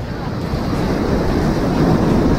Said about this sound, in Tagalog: Malakas yung alon dito sa part na to.